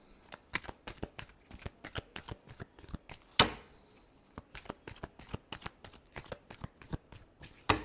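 Tarot cards being shuffled by hand, a steady run of quick papery riffles and taps repeating for several seconds, close and fairly quiet with no voice.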